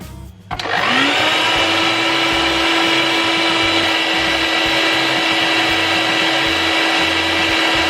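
A vacuum sealer starts up on a bag of meatballs, its motor kicking on abruptly and then droning in a loud, steady hum with a constant whine that continues unchanged to the end.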